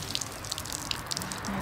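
Water is poured over plant leaves during watering, giving a soft, close patter of drips and splashes over a brief stretch with no talking.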